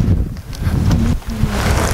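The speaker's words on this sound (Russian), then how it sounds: "Сейчас меня унесет ветром." Strong gusty wind buffets the microphone outdoors, a loud rumbling roar that swells and briefly drops before surging again, with no speech.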